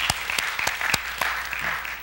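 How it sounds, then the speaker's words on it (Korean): A church congregation claps for a choir, a brief, uneven patter of distinct claps from a small gathering, fairly close and lasting about two seconds. "우리 다시 한번 마하나임 중창단과 우리 하나님께 영광의 박수 한번 드릴까요?"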